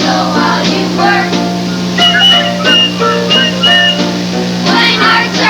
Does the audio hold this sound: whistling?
yes